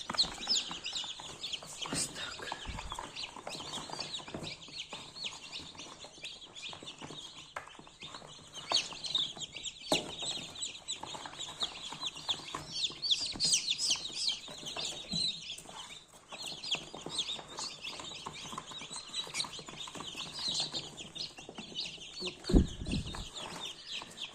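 Newly hatched chicks from a full incubator peep in a busy, continuous chorus of high, overlapping chirps, close and steady throughout, with occasional low clucks and bumps.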